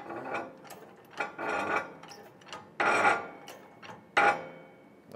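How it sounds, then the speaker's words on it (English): A press slowly pushing a bearing onto its inner race during a steering rack rebuild on a KRX 1000, heard as irregular creaking, grinding and ratcheting bursts at close range with short gaps, no speech. "We're just going to slowly press this bearing back on,"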